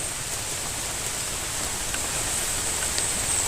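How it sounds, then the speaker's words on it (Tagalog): Heavy rain pours down as an even, dense hiss that stays loud and close for the whole stretch, with no voices on top. "Lakas pa ng ulan guys no?"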